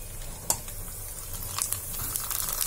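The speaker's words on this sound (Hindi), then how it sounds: "ये देखिए कुछ और भी पूरियां मैं फ्राई कर देती हूँ" Puris deep frying in hot oil, a steady close sizzle and bubbling with a few light utensil clinks, no talking.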